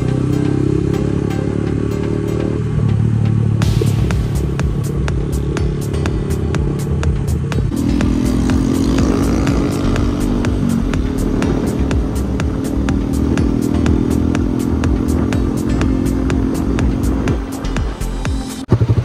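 Motorcycle engine running and revving before a small bike race, a loud steady throbbing drone with pitch rises and ticking clatter, close to the mic with no clear speech.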